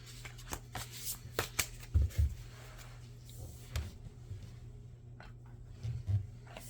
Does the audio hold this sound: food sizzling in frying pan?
no